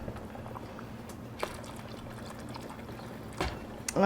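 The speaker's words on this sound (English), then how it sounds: "add some more water" Water is poured into a pan beside a beef brisket flat being readied for the oven, giving a soft, steady trickle with a few brief louder splashes, close by and without talk.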